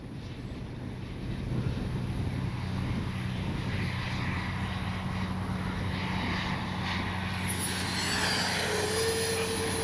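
A Top RC Swift radio-controlled jet airplane cruising at about half throttle and coming in to land, a steady airy engine drone heard from a distance with wind noise over the microphone, no talking.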